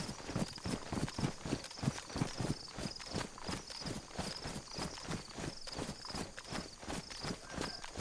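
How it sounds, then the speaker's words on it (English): Steady rhythmic footsteps in the survival video game DayZ, a regular even beat of quick, close steps running through the whole stretch, faint overall with no talking. "Definitely heard footsteps."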